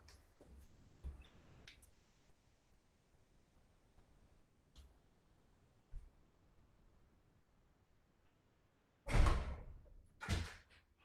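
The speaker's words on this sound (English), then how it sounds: "Wow, my door just blew right open." A door blown open by a strong monsoon wind, heard as two loud, close thuds with rattle near the end, after a stretch of quiet room tone with a few faint knocks.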